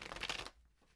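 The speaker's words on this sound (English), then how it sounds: "One more shuffle." Tarot cards being shuffled, a brief close riffle of flicking cards for about half a second, then trailing off into near silence.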